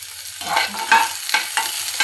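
Onions and green chilies sauté in a hot pan, a steady close sizzle broken by a few distinct scraping stirs, with no one talking.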